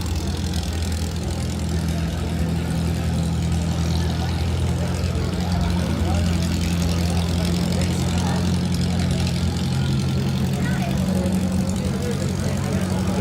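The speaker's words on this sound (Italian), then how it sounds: "Ecco che si accendono i motori anche in piazza" Tractor engines idle together in a town square in Canale d'Agordo during a tractor festival, a steady low rumbling drone with a throbbing pulse and a constant hum, while a voice talks over it.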